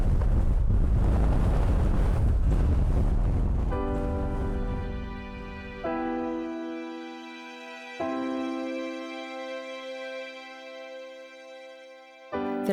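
Heavy wind buffeting and rumbling against the microphone on the summit of Scafell Pike at first, then easing as sustained tonal music fades in and carries on.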